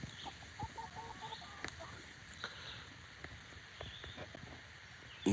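Chickens clucking softly in a backyard flock, faint scattered clucks over quiet background noise with low voices nearby.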